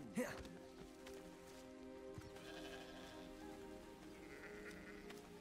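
Sheep bleat in the Hogwarts Legacy video game, faint tonal calls layered over soft rain-like ambience, with a short sharp sound at the start and another at the end.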